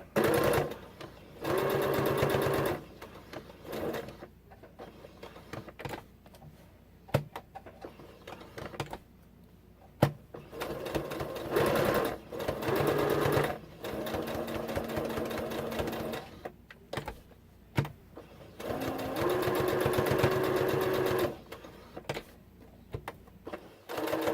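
A sewing machine stitches around a fabric postcard for a junk journal, its rapid mechanical whirring coming in bursts of several seconds with quiet gaps and small clicks between runs.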